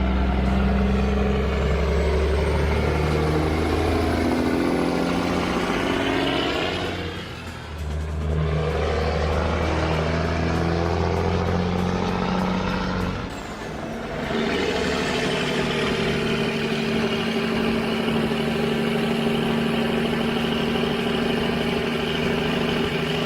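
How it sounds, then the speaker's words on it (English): A Kenworth W900 truck engine runs loud and close, idling with a deep rumble, then revving up and down in two strong swells with brief dips between them. "hearing a W900 rev up is like listening to an American muscle car, only bigger."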